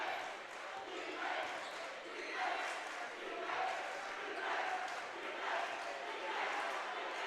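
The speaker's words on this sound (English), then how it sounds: "The crowd's into the game." Crowd noise in a gym during a high school boys basketball game, Union at Uintah, a steady roar that swells and fades at moderate distance, with no clear talk.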